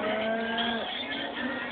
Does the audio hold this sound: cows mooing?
yes